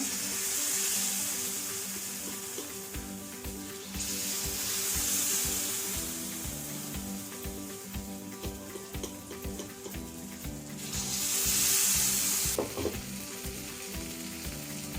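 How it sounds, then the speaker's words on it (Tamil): Jackfruit paniyaram batter sizzling in a paniyaram pan over a medium flame, a steady close crackle throughout, with hissy surges that rise and fall as batter is poured into the wells. "இப்போ நம்ம பணியாரம் ஊற்றிடலாம்"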